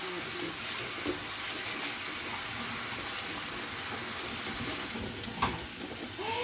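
Cold tap water running onto cooked pansit noodles from a small packet, a steady close hiss of flowing water with faint clinks, continuous throughout with no talking.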